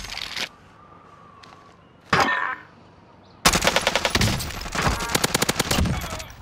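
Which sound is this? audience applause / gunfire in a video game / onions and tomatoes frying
gunfire in a video game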